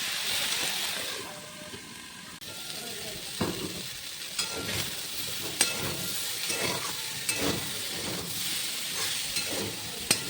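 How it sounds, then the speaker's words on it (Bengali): Potatoes and other vegetables fry in mustard oil with a continuous sizzling hiss, broken by repeated stirring scrapes and clatters at an irregular rhythm, close and fairly loud with no talk. "এবার সমস্ত কিছু দেওয়ার পর এবার সুন্দরভাবে এটা আমি ভেজে নেব লাল"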